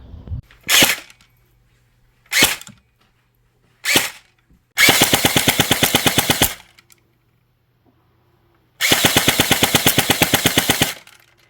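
H&K licensed airsoft gun firing at a target: three single sharp shots, then two rapid full-auto bursts of about a dozen snappy pops each, loud and close.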